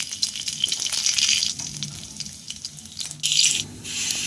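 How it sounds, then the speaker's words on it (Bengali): Garlic cloves frying in hot oil in a home kitchen while cooking drumstick (moringa) leaves, giving a steady hiss of sizzling with bursts of louder crackle that come and go, close by and with no voices. "আর তেলটা গরম হলে তারপরে আমি এই যে কয়েকটা রসুন নিয়েছিলাম, ওগুলো দিয়ে দিলাম। ওগুলো দিয়ে খানিকক্ষণ ভেজে নেব।"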